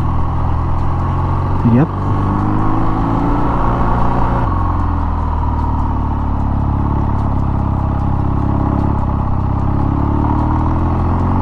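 A BMW R nineT Urban G/S motorcycle on a test ride, its engine droning steadily close by with wind rush, while a rider speaks briefly.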